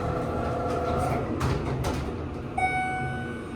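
A Schindler RT 300A hydraulic elevator in a Dick's Sporting Goods store runs with a steady low rumble and hum, a few scraping rattles, then a faint electronic tone near the end.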